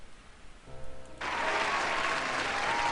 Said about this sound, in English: Can I get a big round of applause for Kras?